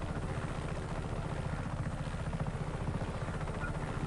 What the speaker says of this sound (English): Can I land this helicopter here?